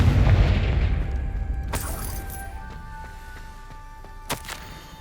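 A Confringo fire-blast spell in Hogwarts Legacy bursts with a loud, rumbling boom that slowly fades, followed by a few sharp cracks and ringing magical tones.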